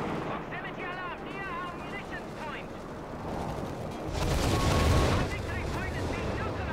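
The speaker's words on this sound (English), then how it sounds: "we're going to finish with, that's right, a bombardment" Artillery bombardment in a Company of Heroes 3 4v4 tournament match, booming blasts and rumbling explosions rising in the middle, under continuous caster commentary.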